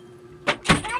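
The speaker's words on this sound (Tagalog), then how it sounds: "Sinara niya yung pinto." A door is pushed shut in two quick steps, a short scrape and then a solid thud, close by and fairly loud against a quiet room.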